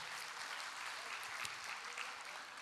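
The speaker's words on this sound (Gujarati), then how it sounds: "સૌને એકવાર જોરદાર તાળીઓથી વધાવી લઈએ" An audience at a Tarangotsav festival applauds the children and young performers, a steady, even wash of many hands clapping that sounds faint and distant, without pauses.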